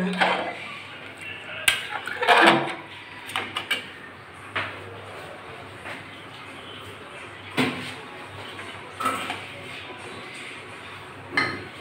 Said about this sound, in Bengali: এবার ভেজে রাখা আলুগুলো দিয়ে দিচ্ছি একটা একটা করে